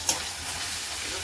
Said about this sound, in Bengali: এখন ভালো করে কষাতে থাকবো